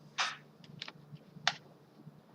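A handful of sharp, isolated keystrokes tapped on a computer keyboard, irregularly spaced over a quiet background.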